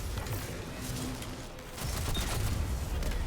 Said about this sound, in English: Okay, just auto rifle kills now.